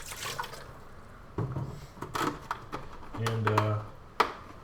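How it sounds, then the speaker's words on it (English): Fresh produce being gently scrubbed by hand in a water bath for fermentation: close, intermittent bursts of rubbing and splashing separated by short pauses, with light drips and one sharp knock near the end. "I'll just gently scrub them with the water that I got here"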